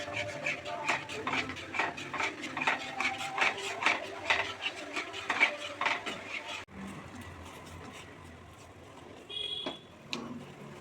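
A spoon stirs a modak mixture of milk powder, sugar and dry fruits in a pan, with rhythmic scraping and rubbing strokes close by, then a quieter stretch of lighter movements.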